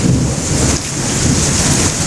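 A summer thunderstorm after a hot day brings a loud, close wash of rain and gusting wind buffeting the microphone, with a low rumble throughout.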